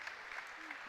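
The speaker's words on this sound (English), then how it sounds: "See Shane McCarthy going off to a great round of applause, well deserved." A basketball crowd applauds a player leaving the court during a men's semi-final, a faint, distant patter of clapping with a commentator's voice faintly over it.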